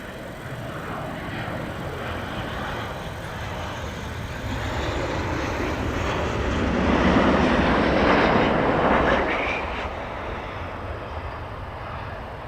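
An F-15E Strike Eagle jet returns to land at RAF Lakenheath, its engine roar rising from a distant rumble to a broad, loud swell as it passes, then slowly fading away.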